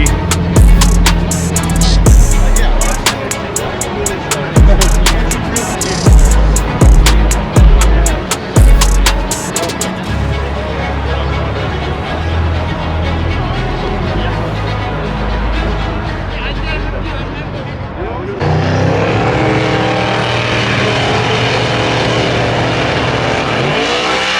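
A twin-turbo Toyota Supra in street-class drag racing, starting with sharp, loud revving bursts and staccato pops, then a sustained roar and a changed engine tone toward the end. A voice talks over the engine.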